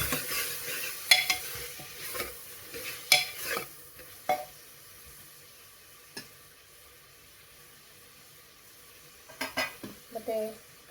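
Ginger garlic paste fries in a pan for a chicken curry, with a steady low sizzle under bright clinks and scrapes of a spoon stirring against the metal. The stirring comes in scattered bursts, then pauses and resumes near the end.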